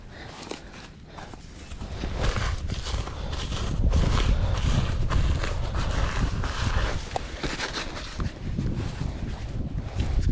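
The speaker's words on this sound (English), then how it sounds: "The wind ain't really helping me out none." Gusty outdoor wind buffeting the microphone at a coyote trapping post set in grassland, a steady low rumble that swells louder after the first couple of seconds and keeps roaring throughout, with faint shuffling underneath.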